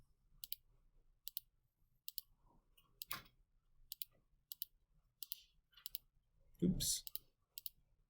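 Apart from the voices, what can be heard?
typing on a calculator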